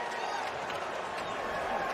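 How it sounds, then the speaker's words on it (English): A modest but fired-up crowd at a Tennessee Titans NFL football game cheers in a steady, distant wash of noise that holds at an even level throughout. "listen to the crowd. It's not a big crowd,"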